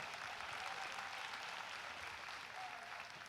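Sustained, steady applause from a large crowd at a Delaware State University fall commencement ceremony, an even wash of clapping filling the whole stretch without pause.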